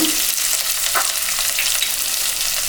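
Chana dal, urad dal and onions frying in hot oil for wheat rava upma, a steady, dense sizzle that holds at an even level throughout with no talk.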